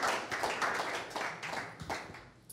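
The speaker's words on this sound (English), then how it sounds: "Round of applause for Steve" A conference audience at a beer industry event claps for a speaker coming on stage, a steady patter of many hands, moderately near and fading slightly at the end.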